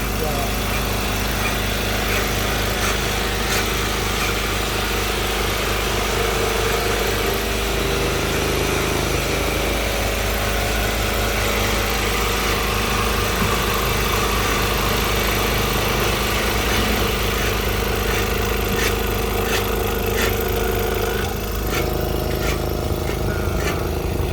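A foam cutting machine slicing black foam drones steadily for the whole stretch, loud and close, shifting in pitch slightly partway through, with voices heard faintly beneath it.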